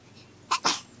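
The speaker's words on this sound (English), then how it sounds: "Oh, horse sneezing." A single short, breathy horse sneeze, a quick burst of air with a second gust right after, close by against a quiet background.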